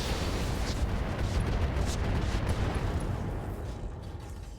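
Mech weapons in the RogueTech mod of the BattleTech strategy game fire in a dense, continuous barrage of booming, crackling blasts, loud and close, with a few sharp higher impacts that fade slightly toward the end.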